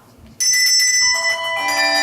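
Handbells rung together in a bell class, several bright ringing tones that start at once, then more bells join in to form a sustained layered chord, close and loud.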